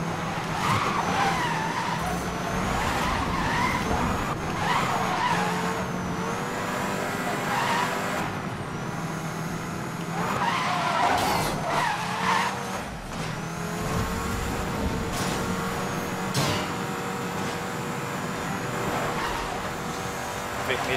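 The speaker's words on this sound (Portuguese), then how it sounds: "Chega canta pneu, mano." A Ford Focus RS500 in Need for Speed: Most Wanted screeches its tires through long, loud skids over a revving engine as it races. The squeals come in repeated drawn-out bursts, with a faint voice under them.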